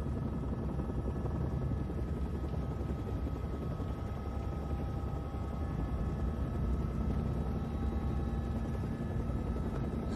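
Steady, dense helicopter engine roar with a low rotor throb, continuous and fairly loud throughout, no voices.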